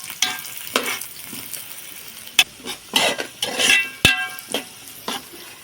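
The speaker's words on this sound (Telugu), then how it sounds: "ఇప్పుడైతే ఆనియన్స్ వేసుకుందాం. కొద్దిగా గోల్డెన్ బ్రౌన్లో వచ్చే వరకు మిక్స్ చేసుకుందాం." Onions frying in oil in a pan while being stirred with a spoon, close bursts of sizzling broken by sharp metallic scrapes and clinks of the utensil against the pan, no voices.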